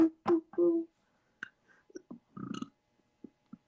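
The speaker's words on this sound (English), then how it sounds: "I burped" A woman lets out a burp, a short low voiced burst followed by a couple of smaller gulping sounds, close and fairly loud, with a few faint clicks and quiet mouth noises after.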